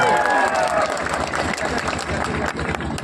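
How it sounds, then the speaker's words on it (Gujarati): A crowd at an election rally claps and cheers to welcome a Delhi cabinet minister, with dense, sustained applause and voices mixed in. "તાળીઓથી સ્વાગત કરી લેજો"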